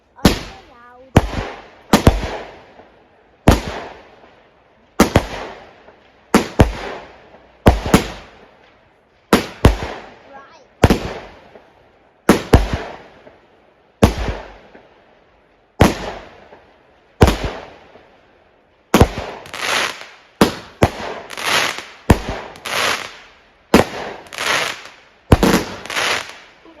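Bonfire night fireworks burst one after another, loud sharp bangs with crackling tails, irregularly spaced at first and then coming faster, with a denser cluster of crackling explosions toward the end.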